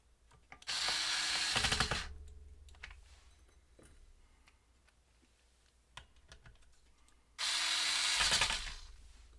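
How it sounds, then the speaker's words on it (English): An electric screwdriver drives screws while reassembling a Sony FS-75 transcriber foot pedal, with two loud whirring bursts separated by quiet handling clicks. "Get to cheat with the electric screwdriver."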